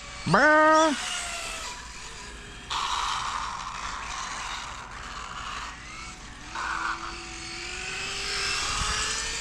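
A motorcycle engine running on a wheelie training machine revs sharply, then the throttle is cut, leaving a lower steady mechanical whine and rumble with a faint hum beneath.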